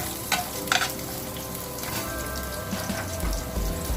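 Ginger and garlic fry in a hot pan, a steady close sizzle and crackle with a few sharp clinks and stirring scrapes, no one talking.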